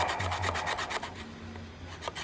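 A rasp with a finer cut files and smooths the wooden center crest of a guitar in a run of quick, close scraping strokes, with no talking.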